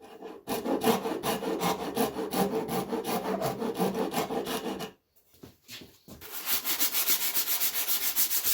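Wooden plugs being sanded flush on a coffee table, a steady rasping rub in close, continuous strokes that pause briefly in the middle before resuming brighter and harsher.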